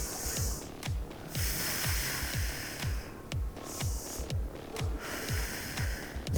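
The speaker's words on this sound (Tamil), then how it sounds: "நல்லா மூச்சு இழுத்து விடுங்க" During a Pilates ball workout, a person draws deep breaths in and out, the slow, airy breath sounds rising and falling over a steady, thumping music beat, with no talking.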